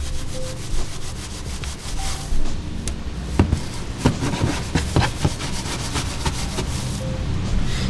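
A detailing brush scrubs in tight spots of a car engine bay, giving repeated short scratchy rubbing strokes with a few sharp taps, close and fairly quiet, with no voices.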